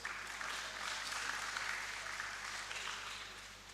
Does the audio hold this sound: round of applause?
yes